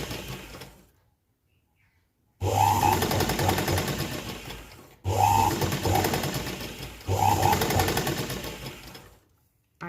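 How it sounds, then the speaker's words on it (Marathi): A sewing machine stitches piping along a fabric edge in three loud, steady bursts of rapid mechanical clatter, separated by brief pauses, after a quiet start. "अगदी कडेला आपल्याला टीप मारायची आहे."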